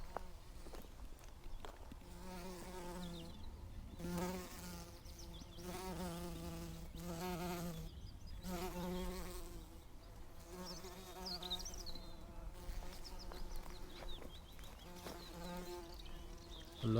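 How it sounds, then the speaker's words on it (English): Bumblebees buzz in and out around Portuguese kale plants in a spring garden, their droning hum rising and fading as individual bees pass close by, steady and fairly soft over about seventeen seconds. "A lot of bumblebee activity around these Portuguese kales."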